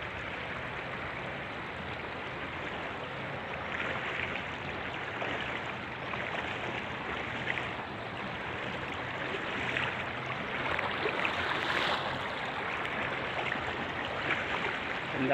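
A shallow, fast-flowing stream rushes over mossy rocks with a continuous, close babbling gurgle and hiss, steady and moderately loud throughout, without any voices.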